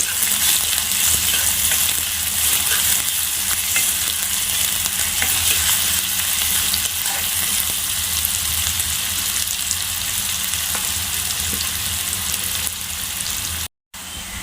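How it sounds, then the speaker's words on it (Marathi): Finely chopped onion frying in oil, a loud, dense, steady sizzle and crackle close up, continuous with brief faint stirring, cutting out to silence for a moment near the end, no voices. "त्यामध्ये आपण बारीक चिरून घेतलेला कांदा टाकूया आणि तो पण चांगला तेलामध्ये लालसर होईपर्यंत परतून घेऊया"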